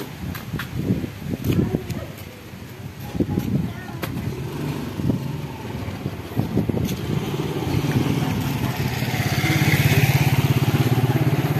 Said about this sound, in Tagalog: May dadaan motor.